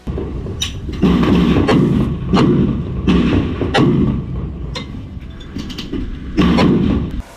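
Heavy thumping suppressive gunfire sounds in a loose, repeated series on an open street in a combat zone, booming and close, with echoing tails between bursts.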